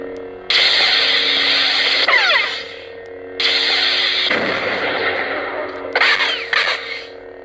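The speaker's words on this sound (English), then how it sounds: "is when it's doing that blaster bolt effect, which is not going to affect the crystal" A custom Starkiller lightsaber from Star Wars: The Force Unleashed fires a blaster bolt effect: loud sustained buzzing bursts, several separate blasts with short gaps, up close and with no voice over them.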